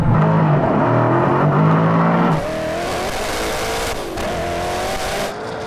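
A Koenigsegg Agera RS drag races a Tesla Model X Plaid, its engine roaring loud and close as it accelerates hard, then drops pitch at a gear change before climbing again at high speed.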